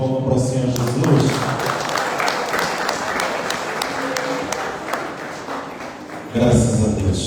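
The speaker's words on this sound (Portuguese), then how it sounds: "Uma salva de palmas para o Senhor Jesus." Sustained applause for Jesus at a gospel concert, many hands clapping steadily from a crowd, with voices rising over it near the end.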